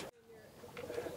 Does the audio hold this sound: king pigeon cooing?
yes